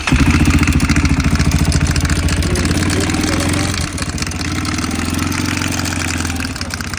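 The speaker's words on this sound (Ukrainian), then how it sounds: "якась біда в моторі. А рамчику заводи, послухаємо." A motorcycle engine with a faulty decompressor idles steadily with a low, uneven rumble and a regular knocking pulse running through it.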